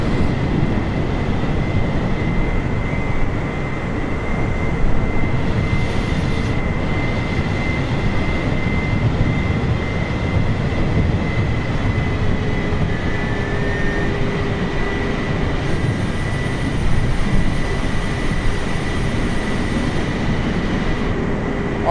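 Airplane engine drone during a landing attempt at sea in a storm in Microsoft Flight Simulator, a steady broadband roar with a faint constant tone, continuous for the whole stretch without speech.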